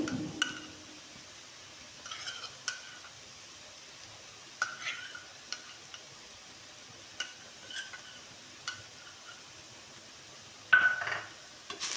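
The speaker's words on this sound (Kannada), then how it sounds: "ಚೆನ್ನಾಗಿ ಈ ಥರ ತಿರುಗಿಸ್ಕೋಬೇಕು" A spoon stirs beetroot palya in a pan, giving sparse, faint clicks and scrapes against the metal at irregular intervals, with one sharper, louder scrape near the end over quiet background.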